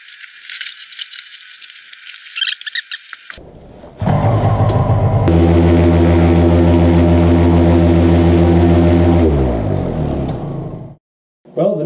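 A Miniplane paramotor with a newly fitted propeller starts up and runs at a loud, steady roar for several seconds on a snowy day, then winds down, with a short stop and restart at the end.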